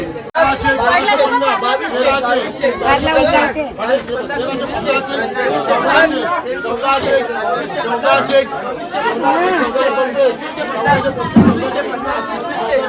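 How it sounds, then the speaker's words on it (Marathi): Dense crowd chatter at a busy fish auction at Aadgaon fishing harbour, many overlapping voices forming a loud continuous babble close around, with individual shouts rising out of the noise. "गर्दी खूप आहे तर चला बघूया इकडचा लिलाव"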